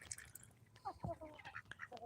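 Ancona ducks quack in a short scattered series of nasal calls, fairly close, with soft background noise and occasional faint voice-like sounds.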